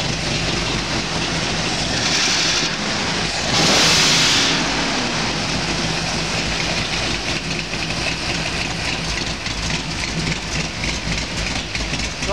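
A 482 cubic inch Ford sideoiler engine runs on an engine stand, a loud, continuous rumbling roar close by that swells briefly in a rev around the fourth second, then settles into a steady churning drone.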